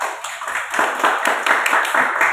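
Students in a group counseling session clap their hands together, a brisk patter of many hands close by, uneven and slightly overlapping, lasting only a couple of seconds.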